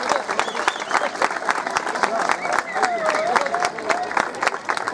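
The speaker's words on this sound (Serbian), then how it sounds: "molim vas jedan veliki aplauz" An audience at a folk dance festival claps in sustained, dense applause, with a voice talking over the clapping.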